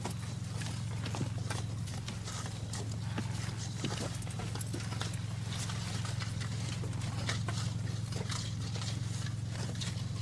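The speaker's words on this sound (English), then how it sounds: "Man leading a horse." Steady clip-clopping of hooves at a walking pace, faint and somewhat distant, over a constant low hum.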